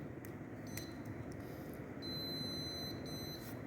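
A push-button doorbell rings with a steady electronic buzz and repeated high beeping tones over constant background hiss, sounding continuously throughout.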